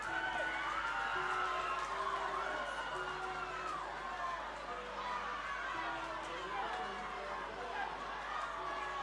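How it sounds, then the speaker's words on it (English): A restless crowd murmurs at a rugby championship quarter-final with scattered shouts and whoops, moderately distant. A commentator talks over the crowd noise throughout. "Crowd getting a bit restless."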